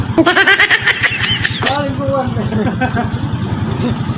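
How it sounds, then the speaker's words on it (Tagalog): A Raider J 115 motorcycle engine idles with a rapid, steady putter close by while someone talks over it. "umandar na yung makina ha"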